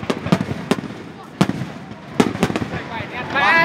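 Fireworks bursting at a fireworks festival, several loud sharp booms spaced a second or so apart, with people talking and a crowd murmuring nearby.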